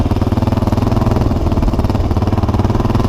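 A 1996 Yamaha XT 350 motorcycle engine runs loud and close in a steady, even, pulsing thump, holding at a constant speed throughout with no voices.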